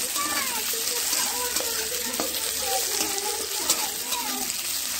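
Onions and garlic frying in oil for chicken biryani, a steady broadband hiss and crackle running throughout, with faint background voices and clinks under the continuous sizzle.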